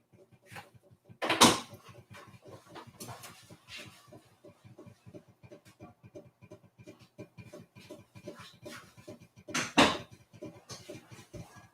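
A kitchen door swings shut with a sharp bang early on and another near the end, over a steady crackle of lard heating in a cast iron pan.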